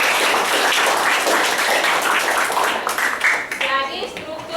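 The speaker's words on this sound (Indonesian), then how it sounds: "Tepuk tangan untuk Edra." A classroom full of students claps continuously in a dense, loud round of applause, with children's voices mixed in as the clapping tapers off near the end.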